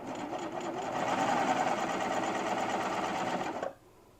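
Close up, a serger stitches a shirt seam, whirring at a steady rapid hum that builds over the first second, holds for about three seconds, then stops abruptly, leaving near-silence.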